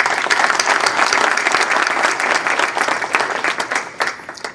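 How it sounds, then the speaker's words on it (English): Sustained audience applause at a book signing event, a dense wash of many hands clapping steadily throughout at full volume with no pauses. "please join me in giving them a well-deserved round of applause"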